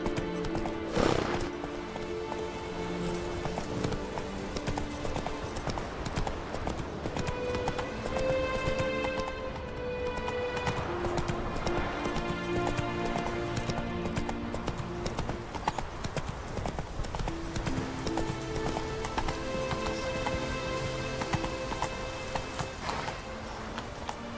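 A horse gallops in The Witcher 3: Wild Hunt, a steady, rapid clip-clop of hooves with an occasional whinny, continuous and close, under a layer of game music.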